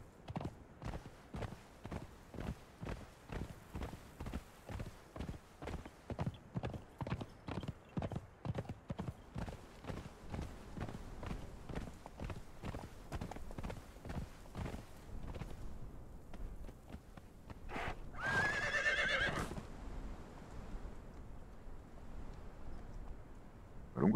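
A horse is ridden at a walk in the video game Conan Exiles, its hooves clip-clopping in a steady rhythm for most of the stretch. A loud neigh breaks in near the end, with faint talk underneath.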